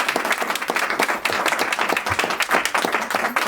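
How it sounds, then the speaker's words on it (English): Audience giving a round of applause at an evening music-themed show, brisk many-handed clapping, close and steady throughout. "Let's give him a big round of applause to Josh."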